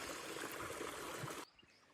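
Water runs from a pipe into a container in a village setting: a steady rushing trickle that stops abruptly near the end, leaving quiet background.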